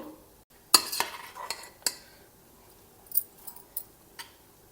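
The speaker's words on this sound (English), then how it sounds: "So I'll just transfer it into this bowl." Cooked curd rice, softened to a mushy consistency, being scooped and transferred into a bowl: a few sharp utensil clinks and scrapes with soft spooning sounds between them, close and fairly quiet.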